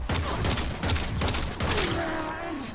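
The Kuva Seer pistol fires in Warframe with five heavy, booming shots in an even rhythm, each followed by ringing game effects, loud and close with a rising electronic tone near the end.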